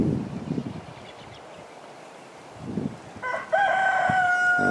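A rooster crows once, loud and fairly close, outdoors in January woods with palmettos. A gusty wind rumble and a few faint clucks come before it.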